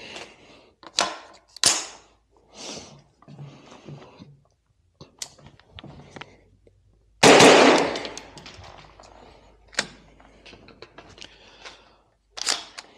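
Gunshots on a practical shooting training course: a series of sharp, irregularly spaced cracks with one louder, longer blast partway through, heard alone without talk.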